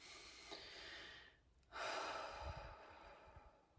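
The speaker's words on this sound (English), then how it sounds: "Let's take some deep breaths." Slow, deep breaths during a calming meditation, a long airy exhale fading to quiet before a second full breath drawn in, soft and close.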